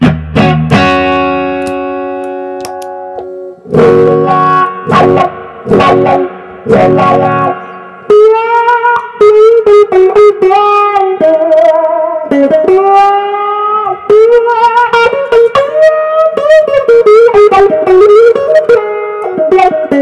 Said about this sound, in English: Let's see what this wah-wah sounds like.